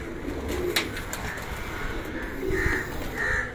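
Large French-breed pigeons with pearl-spotted markings coo softly at close range, with low, throaty calls rising and falling over a busy background and a few brief sharper bird sounds.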